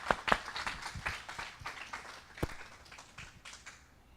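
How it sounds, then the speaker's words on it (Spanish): A church congregation at a Sunday service claps for the Lord. Scattered, uneven hand claps ring out for several seconds at moderate volume, with a few sharper claps standing out before the clapping thins and fades. "A clap for the Lord."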